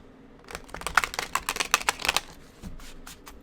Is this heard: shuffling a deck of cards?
yes